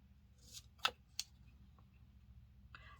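Scissors snip a few quick, sharp cuts through washi tape in a quiet crafting setting, with two distinct close clicks and some lighter rustles between them.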